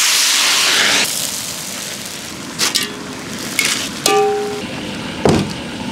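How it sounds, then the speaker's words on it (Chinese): Crayfish deep-fry in hot oil in a wok, a steady hiss and crackle that starts strong and then settles, with a few sharp utensil clinks and bumps nearby. "七成油温炸一下。"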